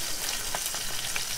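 Hot oil tempering hisses and sizzles steadily as asafoetida is dropped in, a dense, even crackle held close and loud for the whole moment with no talking.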